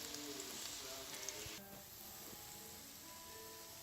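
Sausage fries in a pan with onions, a faint, steady hiss and crackle that softens partway through.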